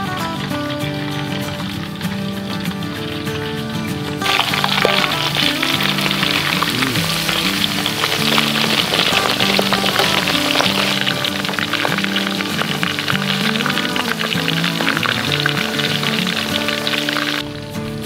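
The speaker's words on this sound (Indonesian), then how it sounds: "tinggal kita goreng ayamnya" A whole chicken deep-frying in hot oil, a dense, steady crackling sizzle that grows louder and busier partway through and holds continuously to the end.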